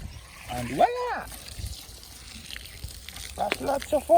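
Water running steadily from a connected farm water source after a storm, a low continuous trickle and splatter with people talking over it at the start and end.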